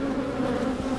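Honey bees buzz around hive frames in a dense, steady drone, close and continuous, with no voices.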